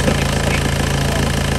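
A Mitsubishi 4D56 diesel engine with blowby runs steadily at idle, a continuous close, rough mechanical drone with a faint knocking pulse and no talk over it.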